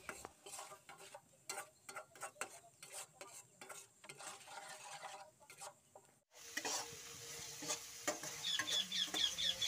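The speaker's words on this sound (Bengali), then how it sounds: "জলটা দিয়ে মশলাগুলোকে একটু ভালো করে কষিয়ে নেব" Spices for sabudana khichuri stirred and fried with a little water: a run of close, irregular spoon scrapes and taps, then a denser, steady sizzle for the last few seconds, quiet overall.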